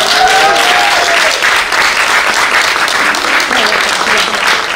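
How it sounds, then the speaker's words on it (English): A round of applause from an audience after a talk, loud and continuous dense clapping that holds steady for the whole stretch, with faint voices underneath. "Give a round of applause."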